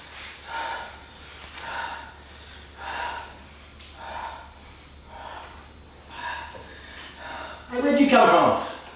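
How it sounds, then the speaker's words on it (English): Heavy, rhythmic panting from a man who has just been running, with repeated breathy gasps at a steady pace, fairly close, ending in a louder voiced exhale. "He's escaped from the cops and is panting heavily."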